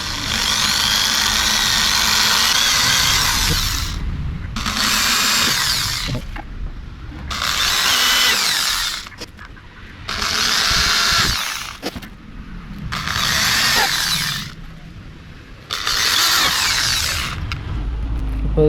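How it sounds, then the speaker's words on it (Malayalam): A power drill boring holes to mount a visor on a Bajaj RS 200 motorcycle, loud whining bursts of a few seconds each with short quiet pauses between, repeated six times. "അതിൻ്റെ സെൻറ്റർ നോക്കി ഡ്രിൽ ചെയ്യണം"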